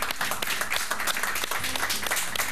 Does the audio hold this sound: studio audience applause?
yes